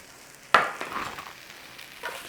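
Yang Chow fried rice with green onion and white pepper being stirred in a hot pan, a scrape and toss over steady soft sizzling, close and moderately loud.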